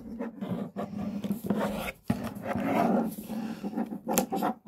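Plastic parts of a Transformers Studio Series Ironhide toy figure being moved and rubbed against each other during transformation, close scraping and clicking that continues throughout with small pauses.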